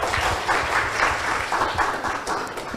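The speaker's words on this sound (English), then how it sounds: "Ladies and gentlemen, please give them a big round of applause" A school debate audience applauds, a steady wash of many hands clapping for under three seconds, moderately loud and fairly close, with no talking over it.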